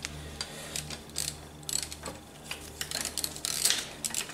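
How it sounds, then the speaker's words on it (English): A 3/8-inch ratchet fitted with a 12mm socket loosens a bolt on a 1999–2004 Volvo S40/V40 petrol engine, giving bursts of rapid close clicking in repeated strokes with no talking. "we'll start with a 3/8 ratchet and a 12mm. Just loosen that bolt in there"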